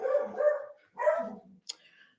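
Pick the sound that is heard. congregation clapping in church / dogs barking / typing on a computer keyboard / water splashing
dogs barking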